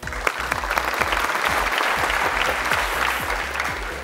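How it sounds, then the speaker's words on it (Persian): A studio audience on a Persian-language family game show applauds loudly and steadily, a dense wash of clapping with no pauses. "پس تشویق کنین"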